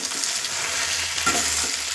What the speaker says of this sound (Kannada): ಇವಾಗ ಪೂರ್ತಿ ಫ್ರೈ ಆಗಿದೆ ನಮ್ಮದು ಟೊಮೆಟೊ, ಈರುಳ್ಳಿ ಮತ್ತು ಮೆಣಸಿನ್ಕಾಯಿ